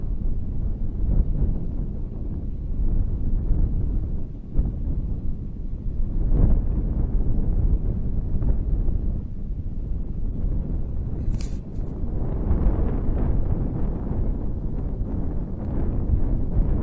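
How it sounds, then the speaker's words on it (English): Strong wind out on a bay buffets the microphone in a constant loud roar with gusty swells, a continuous rushing noise with nothing else clearly standing out. "Getting windy again."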